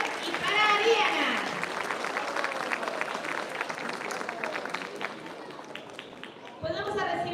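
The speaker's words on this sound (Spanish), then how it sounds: "Fuerte el aplauso nuevamente para nuestras tres candidatas, para Mía, para Cristal y para Ariana." An audience at a town queen pageant in San Mateo, Zacatecas, claps loudly for three beauty pageant candidates, a dense burst of applause that gradually thins before a brief swell at the end, with crowd voices mixed in.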